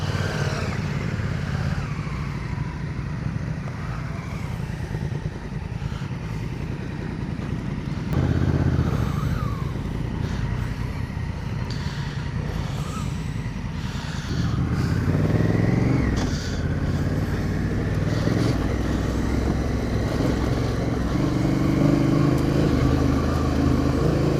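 A motorcycle engine drones continuously, rising and falling as the rider accelerates and shifts, with wind rush over the steady mid-pitched roar.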